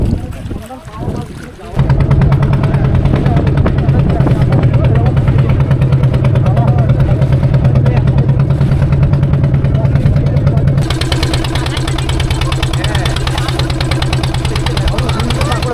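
A motorboat engine drones loudly and steadily as the boat pulls away on a Sundarbans river near Kolkata, with strong wind buffeting throughout.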